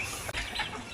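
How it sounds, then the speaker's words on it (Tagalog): Backyard chickens clucking as they peck at feed scattered for them, several soft clucks close by over a steady low outdoor murmur, no voices. "Yan, nagpapatuka siya ng kanyang mga manok."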